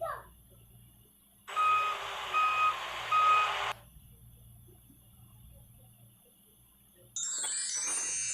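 An animated car reverses with a series of short, evenly spaced electronic beeps heard alone over a quiet background, followed by a brief bright chime.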